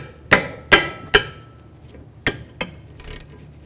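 A 14 mm socket wrench working the rear brake caliper bolts on a 2010-2017 Chevrolet Equinox: several sharp metallic clacks and knocks, three quick ones then a few more spaced out, close with no talking.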